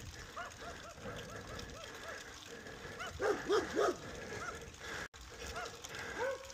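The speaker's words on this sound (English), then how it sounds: "I think every house has a dog here." Dogs bark repeatedly around residential houses in the East Mountains of Albuquerque on an early morning bike ride, a run of moderately distant yelping barks that grows louder and denser near the middle.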